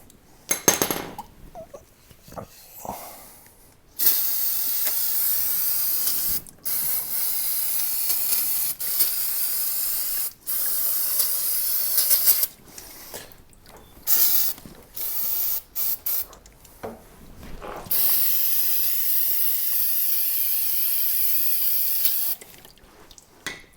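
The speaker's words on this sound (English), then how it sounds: "I spray some more brake cleaner and try and clean off some of this crap" Brake cleaner sprayed from an aerosol can during an axle seal replacement on a spindle pivot, heard as several loud, steady hissing bursts of a few seconds each, separated by short pauses, with no talking.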